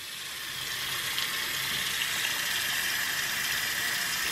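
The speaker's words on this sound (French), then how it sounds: "Je vais aller passer le produit sous l'eau, sous le robinet." A bathroom tap runs steadily as a hand coated in a matte and metallic eyeshadow product is rinsed under the stream, giving a constant, close, hissing flow with no talk over it.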